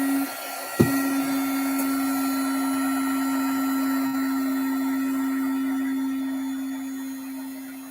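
An embossing heat gun clicks on and runs as a loud, steady close-up whirring blower with a constant humming tone, preheating continuously and easing off slightly at the end.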